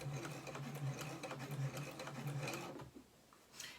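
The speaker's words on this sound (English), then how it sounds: "I'm now just going to sew right along that top stitch that I already have in there" A sewing machine runs a close, steady top stitch along a fabric face mask threaded with shoelaces, humming and whirring continuously before stopping near the end.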